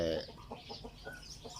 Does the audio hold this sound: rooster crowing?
yes